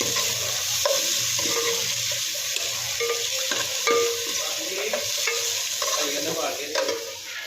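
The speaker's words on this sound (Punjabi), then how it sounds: "ਕੜੀ ਪਾਤੀ ਮੈਂ ਗੜਕਨੇ" Kadhi curry simmers and sizzles in a pan with a steady close frying hiss, broken by repeated scraping and stirring taps from a utensil against the pan.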